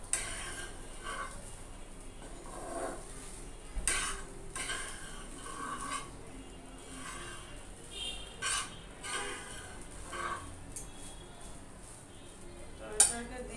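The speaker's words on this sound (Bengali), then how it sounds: "মাঝে মাঝে এরকম ভালো করে নেড়ে ছেড়ে দিতে হবে" Flattened rice fried with egg in a pan and stirred now and then, with scattered clinks and scrapes of a utensil against the pan over a faint sizzle.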